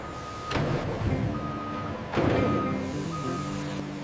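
Trucks pull into the unloading bay of a lemon factory, engines rumbling steadily while reversing beeps repeat over the din, with two louder surges of machinery noise.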